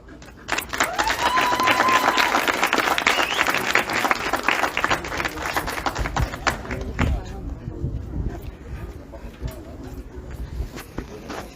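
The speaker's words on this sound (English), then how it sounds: "we make another big applause" Audience applause at a dog protection championship, a sustained burst of many hands clapping that builds quickly, holds steady, then thins out with scattered claps and crowd murmur toward the end.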